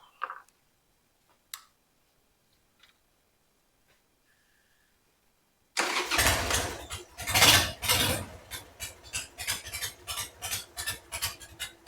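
After several seconds of near silence with a few small clicks and taps, a Harley-Davidson Sportster engine under repair catches and settles into a loud, uneven, rhythmic idle.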